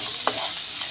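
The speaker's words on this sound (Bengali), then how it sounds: "এটাকে ভালো করে নাড়িয়ে নেব আদাটা দিয়ে" Vegetables with ginger paste are stirred in a hot pan for dalia pulao, giving a close, steady sizzle with a single short scrape of the spoon.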